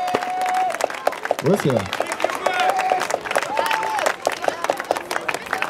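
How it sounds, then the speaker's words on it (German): Applause and scattered clapping break out from a crowd at a skatepark contest prize ceremony, with someone speaking over the clapping. "Applaus für dich."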